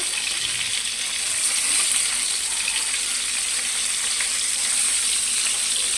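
Stuffed round gourds (tinda) frying over low gas in a pan, with a steady, close hiss of sizzling oil that runs throughout and a faint watery crackle underneath, with no voices.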